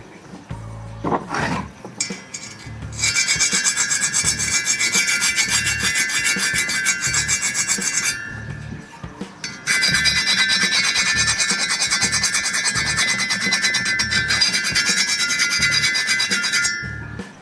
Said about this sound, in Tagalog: Kikil ulit.